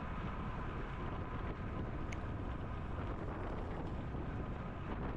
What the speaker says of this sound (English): but it's pretty windy